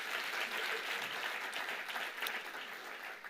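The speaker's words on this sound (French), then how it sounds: "Est-ce qu'on peut applaudir les papas?" A church congregation applauding the fathers at a worship service, dense sustained clapping from a crowd heard at a moderate distance, steady from start to finish.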